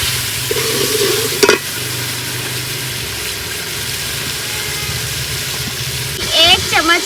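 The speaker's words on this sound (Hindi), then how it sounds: "इसमें अब मैं डाल रही हूँ चिकन।" Chicken pieces go into a pan of frying ginger, garlic, green chili and onion masala, and steady loud sizzling follows with a thump and scraping at the start and end. Someone talks over part of it.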